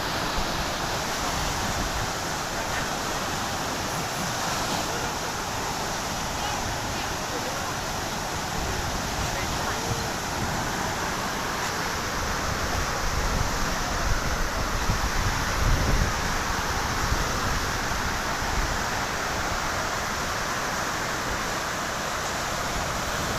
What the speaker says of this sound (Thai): ความแรงของน้ำครับเปิดประตูระบายน้ำมาก็น้ำไหลแรงมาก